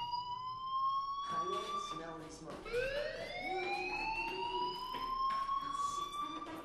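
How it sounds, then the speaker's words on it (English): A fire alarm in the video game Life Is Strange 2, a steady electronic wail that sweeps upward in pitch, pauses briefly and starts again, continuous and fairly loud throughout. "Hey, do you hear that fire alarm?"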